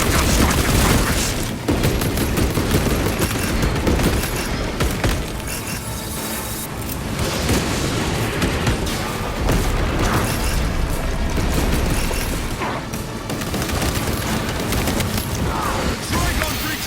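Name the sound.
servo gun strike gunfire and explosions in Warhammer 40000: Space Marine 2 video game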